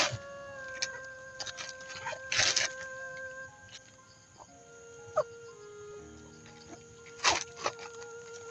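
A rooster crows in a long sustained call, with other birds and animal noises around it and brief rustling thumps nearby.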